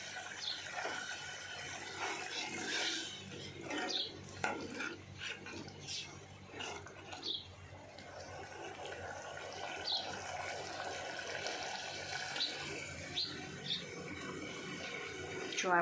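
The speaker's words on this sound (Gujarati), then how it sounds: "હું આ અડધા કપ જેટલું પાણી ઉમેરીશ." About half a cup of water poured into gravy in a pot gives soft, intermittent splashing and trickling with some clatter, fairly faint and uneven in level.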